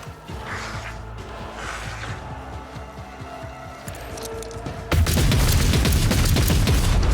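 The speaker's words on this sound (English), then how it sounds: "we're going to take our Heavy Bolter and Burst fire him" Heavy Bolter burst fire in Rogue Trader: after a stretch of low mechanical clatter and ambience, a loud dense burst of heavy gunfire erupts and sustains to the end, close and forceful.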